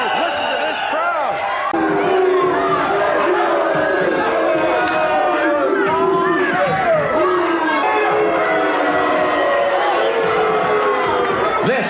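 Loud, dense wrestling arena crowd at an LPWA women's wrestling match, cheering and yelling steadily throughout just after a flying finish, with excited voices rising and falling across the whole stretch.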